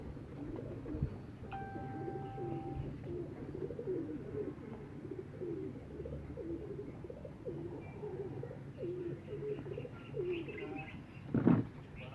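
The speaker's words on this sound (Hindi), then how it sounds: "ये मेरा बड़ा ब्रीडर कबूतर है" A large breeder pigeon coos in a repeated, low, rolling rhythm, close and fairly quiet, with a few faint chirps and a short burst of flapping or rustling near the end.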